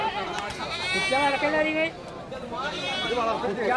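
A Malabari goat with two kids bleats at the Chattiparamba goat market, giving a long wavering cry followed by a shorter one a moment later, close and loud, with murmuring voices from the surrounding crowd.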